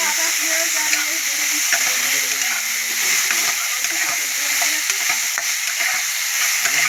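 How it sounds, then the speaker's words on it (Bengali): Eggplant pieces with neem leaves fry in hot oil, a steady loud sizzle with occasional stirring scrapes and splatters; a voice murmurs faintly beneath. "এবার বেগুনগুলো দিয়ে দেবো। নিম পাতা ভালো লাগে, বেগুনগুলো দিয়ে দিলাম।"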